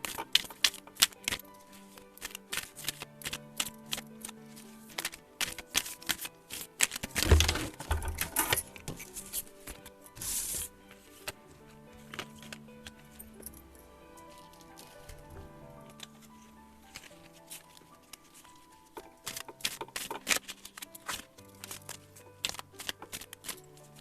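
Oracle cards being shuffled and dealt during a tarot-style reading, with rapid papery riffles and flicks, a dense burst of shuffling in the middle, and steady soft card taps throughout.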